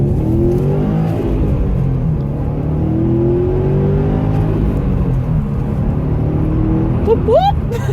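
A Subaru WRX STI's exhaust drones as the car accelerates, a low rumbling engine note with gently rising pitch heard from inside, ending in a short squeaky chirp near the close.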